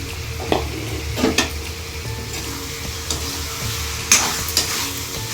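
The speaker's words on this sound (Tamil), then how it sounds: "கொஞ்சம் உப்பு போட்டு மஞ்சள் தூளும் சேர்த்து நல்லா வதக்கி வச்சுக்கிறேன்" Chicken with turmeric powder and salt sautéing in a pan with softened tomatoes: a steady close sizzle with intermittent scraping stirs and light clinks of the spoon against the pan, no voices.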